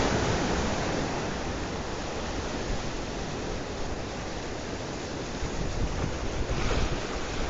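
Sea waves breaking and washing over rocks on a shoreline fishing spot, a loud continuous surging roar with steady hiss and wind buffeting, close and unbroken throughout.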